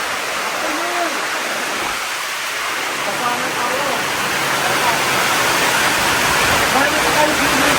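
Heavy rain pours down on a mountain in a dense, unbroken roar, with a voice speaking briefly beneath the downpour.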